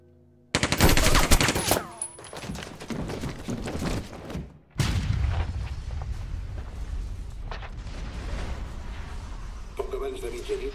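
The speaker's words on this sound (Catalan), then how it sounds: "Quan la policia ha entrat a l'edifici s'ha pogut sentir un intercanvi de trets." Gunfire and blasts erupt during a police storming of an occupied embassy building, with dense bursts of rapid shots and heavy booms loud and close, mixed with shouting voices.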